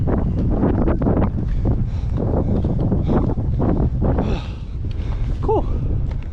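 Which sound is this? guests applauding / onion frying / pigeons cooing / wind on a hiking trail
wind on a hiking trail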